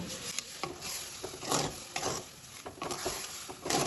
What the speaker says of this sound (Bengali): চিনিটা জলের সাথে ভালোভাবে গুলে নেব।